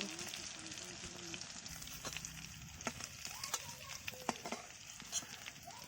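Shrimp sizzle and crackle in hot oil in a pan, a continuous moderate fry broken by scattered pops and a few light stirring clatters near the cook.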